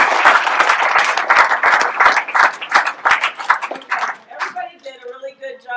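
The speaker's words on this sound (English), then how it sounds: "everybody deserves a round of applause" A crowd at a high school engineering day event gives a loud, sustained round of applause, dense clapping that thins out and fades toward the end.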